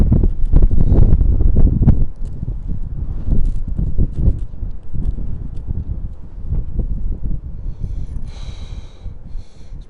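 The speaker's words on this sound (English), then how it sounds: "It's proper windy out." Strong gusty wind buffets an outdoor microphone in London, loud rumbling roars at first that ease into steadier blustering, with a faint high sound near the end.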